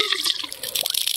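Water gushing from a pipe on a mountain farm, a steady broadband rush with splashing bursts, close and fairly loud, no talking.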